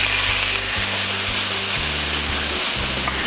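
Sliced asparagus frying in olive oil in a pan gives a steady, loud hiss and sizzle, with a low hum beneath it and no talking.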